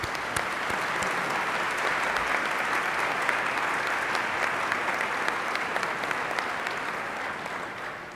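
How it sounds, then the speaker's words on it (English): An audience at the Pasadena Mayor's Interfaith Prayer Breakfast gives the co-chairs a sustained round of applause, a thick, steady clapping from a large room that holds for several seconds before easing slightly at the end. "give them a big round of applause"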